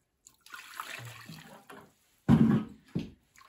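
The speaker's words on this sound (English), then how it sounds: "I'm going to add a little more water." Water is poured into thick paper pulp in a deckle box during papermaking, producing soft splashing and sloshing in a few separate bursts: a longer gentle pour, then a louder splash and a short final slosh.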